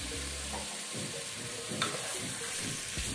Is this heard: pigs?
no